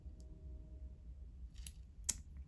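Small scissors snip thread at a fly-tying bench, two quick close clicks in near silence, the second one crisper and louder, over a faint low room hum.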